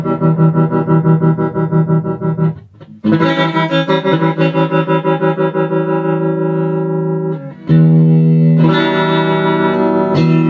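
Vintage 1973 Traynor YGM-3 valve combo amp with tremolo at full intensity, loud sustained guitar chords pulsing rapidly and steadily in volume, with a brief pause before a new chord rings out.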